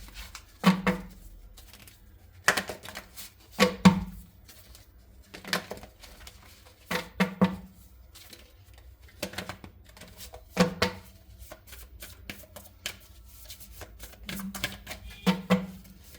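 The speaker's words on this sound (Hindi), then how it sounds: "let me shuffle some cards" Tarot cards being shuffled by hand in short bursts of papery riffling and soft taps, about eight quiet clusters spread evenly with pauses between, near and alone with no talk.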